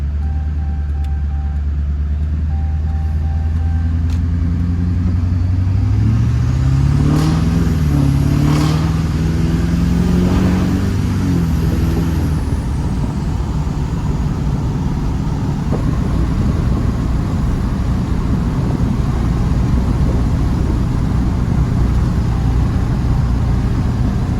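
An LB7 Duramax diesel truck fitted with a new intake pulls hard, its loud, steady engine roar climbing in pitch through the run and then holding at speed.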